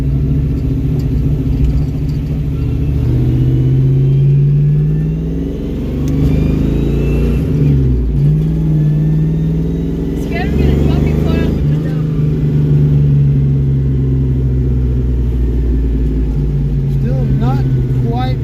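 A Ford Mustang project car with no brakes drives up and down a flat street, its engine rumbling loudly and close, revving up and easing off in waves while people talk over it.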